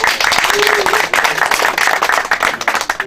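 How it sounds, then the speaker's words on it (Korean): Audience clapping at a provincial sports festival at a stadium, loud close-up applause with distinct individual claps and a brief sustained tone early on, fading unevenly toward the end. "우리 시향님께 뜨거운 박수 한번 부탁드리겠습니다"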